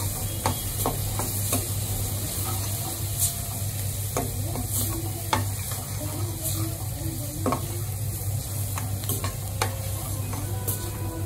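Red chili, kitchen king masala and dhania powder fry in a hot pan as they are stirred, giving a steady close sizzle broken by scraping and clinking strokes throughout, with a low hum underneath and no voices.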